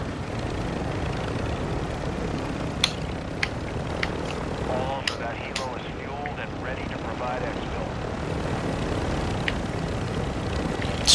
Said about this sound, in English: we'll take the heavy chopper over there and land it